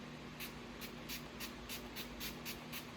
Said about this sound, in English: Then we're gonna take this setting spray, the Natural Finish setting spray,